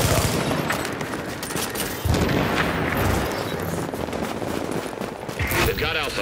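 Sustained bursts of automatic gunfire hammer at a fortification during a video game battle, loud and dense with booming impacts under a game announcer's voice.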